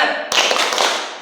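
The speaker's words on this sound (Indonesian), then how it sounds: "Tepuk semangat." A group of people clap in rhythm for a Tepuk Semangat spirit clap, a sudden burst of close, loud claps that keeps going evenly, with a voice faintly under it.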